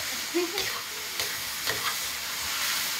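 Button mushrooms and sliced lean pork stir-fried in a wok, with a steady hiss of sizzling and a few scraping stirs of the spatula, close and moderately loud with no talk.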